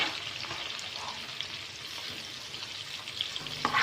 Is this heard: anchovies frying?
yes